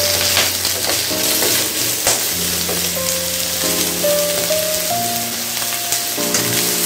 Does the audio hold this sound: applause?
no